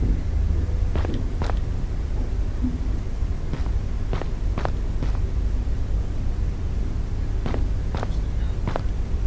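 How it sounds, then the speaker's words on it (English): Footsteps sound at irregular intervals, a dozen or so sharp steps over a steady background hiss, fairly close by and with no one talking. "Yeah, I hear footsteps."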